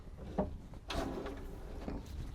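A kitchen drawer in a Brewster camper van slides open or shut, giving one soft thump followed by a brief rolling slide and a smaller knock near the end, heard close by and at a moderate level.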